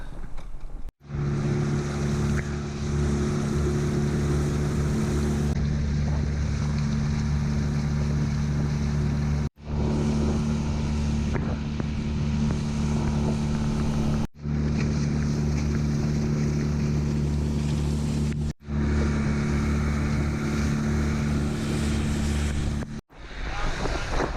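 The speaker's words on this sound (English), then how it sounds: "It's a fishing trawler that's just come in." A fishing trawler's engine drones steadily as the boat comes into an anchorage off a coast, a loud continuous low rumble mixed with wind buffeting the microphone and a few brief dropouts.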